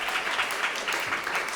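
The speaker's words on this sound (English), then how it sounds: "Give them a round of applause." Audience applause for young performers bowing at a school music festival concert, a steady wash of clapping throughout, brief and moderately loud with no voices.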